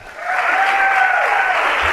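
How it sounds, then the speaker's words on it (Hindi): Loud, dense applause from an event audience greets a guest speaker at a business gathering, holding steady and close for the whole stretch. "उनके लिए जोरदार तालियां"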